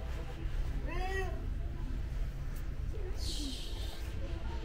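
A black cat in a pet store gives a couple of faint, short meows amid the low background murmur of the shop, with a soft chirp-like sound toward the end.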